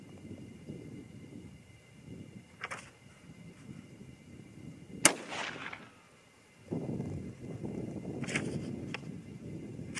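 A single sharp rifle report from a 25-06 Remington firing a 100 grain Nosler load cracks out mid-clip at an outdoor range, with a brief echoing tail amid quiet background noise and distant low rumble.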